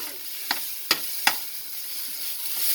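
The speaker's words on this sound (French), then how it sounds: "on va laisser l'oignon comme ça pour à peu près un bon 2 minutes pour que ce soit un petit peu doré" Onions for chana masala fry in a pan with a steady sizzle, broken by three sharp scrapes of a spoon stirring them.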